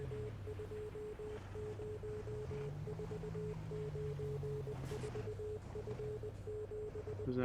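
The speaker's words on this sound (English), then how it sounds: "That sounds like Morse code." Rhythmic Morse code beeping from the video game Easy Delivery Co., a steady tone keyed in short and long pulses over a constant low drone and hum, loud and continuous throughout.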